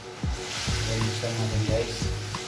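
Beef liver drops into a hot frying pan for beef igado, a steady close sizzle with a few soft knocks and a voice speaking over it.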